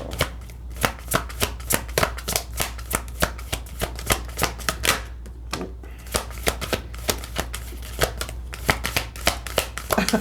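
A deck of tarot cards shuffled by hand close up, a long run of rapid, regular crisp riffling snaps over a low steady background hum, with no one speaking.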